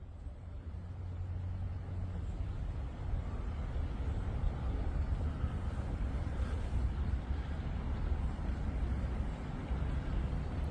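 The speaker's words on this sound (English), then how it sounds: "But that's just the wind, buddy." Wind blowing through a forest beside a road, a steady low rumbling gust noise buffeting the microphone, fairly loud and constant with slight swells, no voices.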